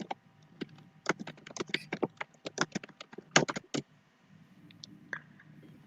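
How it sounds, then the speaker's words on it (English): Typing on a computer keyboard during a live stream, quick irregular bursts of light key clicks, fairly close but quiet, pausing briefly before a few last taps, with no talk. "Sorry if you can hear me typing."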